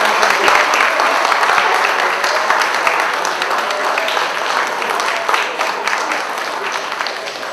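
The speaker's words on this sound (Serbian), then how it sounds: "vas molim da ovaj aplauz bude ozbiljan" A festival opening-night audience bursts into sustained, loud applause, dense clapping filling the hall evenly from start to finish.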